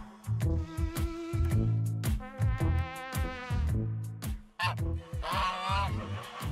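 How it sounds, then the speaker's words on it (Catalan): Farmyard geese honk loudly and close by in a dense, overlapping chorus of nasal, buzzing calls, sounding in quick bursts almost without a break for several seconds. "I em responen les oques."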